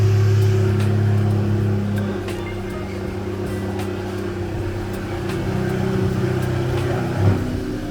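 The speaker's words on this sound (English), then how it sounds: "rev it, tap it a little, Okay. tap the throttle." A VW GTI MK7 with a Borla S-Type aftermarket exhaust rumbles close by. A steady, deep engine drone swells gently with light throttle taps and carries on throughout.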